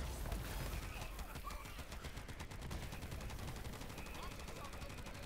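Rapid automatic fire from a vehicle-mounted turret gun in Borderlands 3, a dense steady stream of loud shots rattling across the whole stretch with faint voices underneath.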